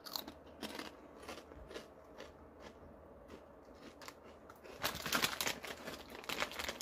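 Someone bites into and chews crunchy 3D Doritos puffed corn chips close to the mic, each bite a crisp crackle, building to a louder burst of crunching near the end.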